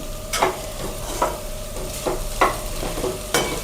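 A spoon stirs poha kachori vegetable filling with coriander leaves in a hot pan. The scrapes and knocks come at regular intervals over a soft, continuous sizzle, with no voices.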